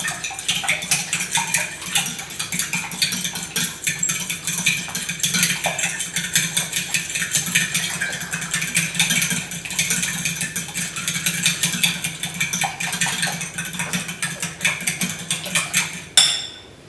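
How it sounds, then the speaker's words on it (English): Eggs being whisked in a bowl for egg cakes, a steady rapid clatter of a utensil against the bowl sustained throughout, close and fairly loud, with no talking. "you want to scramble them."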